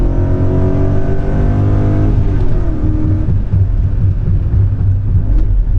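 A BMW M5 E39 sports sedan's engine pulls hard under acceleration from around 2,000 rpm, a loud, close, deep rumbling growl that rises in pitch, briefly eases, then continues with a coarse throaty roar.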